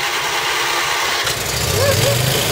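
A lawn mower engine being started, a gritty mechanical pull and sputter that catches into a steady, loud running drone with a rising whine, close by.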